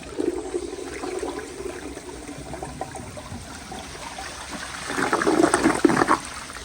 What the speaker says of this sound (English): But here is another flush.